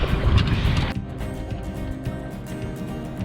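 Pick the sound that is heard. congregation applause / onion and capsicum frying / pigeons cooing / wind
wind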